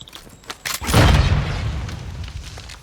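A grenade explodes in Warzone 2 with one loud, close boom. Its deep rumbling tail fades slowly over the next two seconds.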